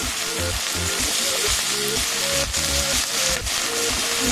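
Cut potatoes and golden fried onions sizzling steadily in a hot pan, a loud continuous crackle with faint rhythmic beats underneath throughout.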